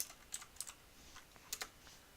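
Quick, sparse taps on a computer keyboard, a few short bursts of clicks near the microphone, quiet and with no talking.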